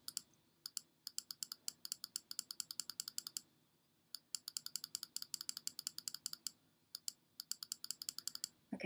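Rapid bursts of fast, sharp clicks come from a computer mouse being clicked repeatedly while adjusting line spacing in Cricut design software, quiet and close, with brief pauses between runs and no voices.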